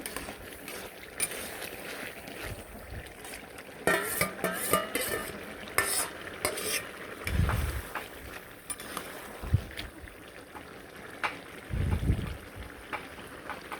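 A vegetable curry with sugar and cumin is stirred in a pan, bursts of scraping and clinking from a spoon against metal, a low background sizzle and a few thumps, fairly soft and close.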